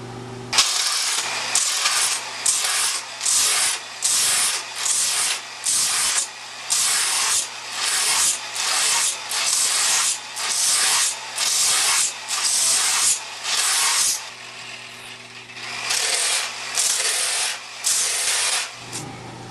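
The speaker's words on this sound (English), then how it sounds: "then go right into sanding the board" Pre-sanding an epoxy-glassed surfboard: loud, close strokes of abrasive rubbing over the hard resin surface, coming in a steady run of short, even passes separated by brief pauses.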